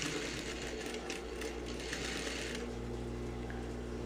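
Sewing machine joins fabric pieces with a seam, running continuously and close throughout with a steady mechanical hum and rapid stitching chatter, no voices.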